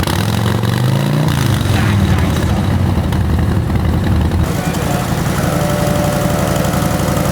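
A loud car exhaust with a valved system in loud mode rumbles steadily at close range, a deep throbbing idle with a brief rev early on and a rough, gurgling tone.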